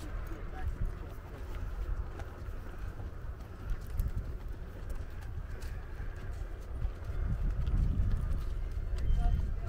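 Hooves clip-clop on the ground at a walking pace, several horses moving together, with low rumbling background noise and faint bird calls.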